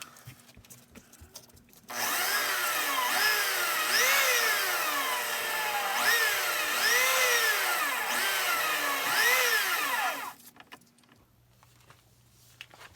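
A power tool grinds and rounds over the inside and outside edges of a handmade resin ring. It makes a steady loud whine for about eight seconds, with pitch sweeping up and down as the tool is pushed in, then stops abruptly.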